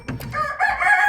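A rooster on a home poultry farm crows once, close and loud, in a single rising call with no talk over it.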